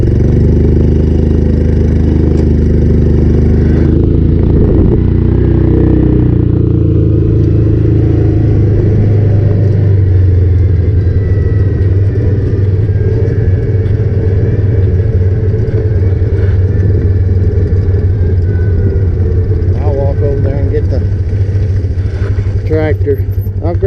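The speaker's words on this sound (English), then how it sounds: "Tractor." A loud, steady tractor engine rumbles close by on a farm throughout, with a low idling drone and occasional shifts in pitch.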